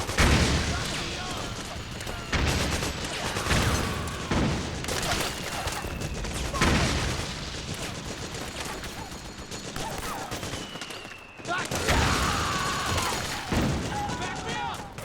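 Sustained suppressing gunfire in the video game Metal Gear Solid 4, with dense fusillades and machine-gun bursts layered over booming impacts, loud and continuous with brief lulls, under shouted voices.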